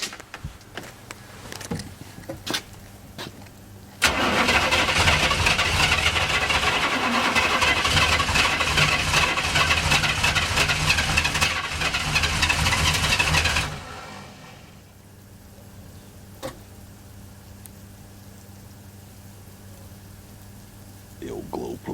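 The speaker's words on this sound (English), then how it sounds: "I hear a cold start happening." On a snowy day, a car engine with glow plugs cranks and fires from cold, roaring loudly and steadily for about ten seconds before cutting off abruptly, with scattered clicks and knocks before and after.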